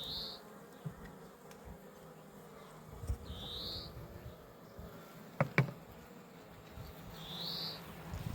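A steady honeybee buzz hums through the background at a hive, with a few higher chirping sounds and a couple of sharp knocks partway through.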